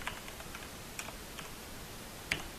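Someone types on a computer keyboard in short, irregular keystrokes over a low steady hiss, with one sharper key tap near the end.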